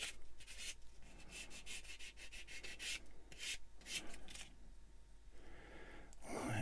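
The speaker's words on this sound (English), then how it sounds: "I'll give it a quick bite with a sander" A sander works a small plastic part from a 1/144 Bandai Star Wars AT-AT model kit, giving soft, quiet, uneven rubbing and scraping strokes in short bursts.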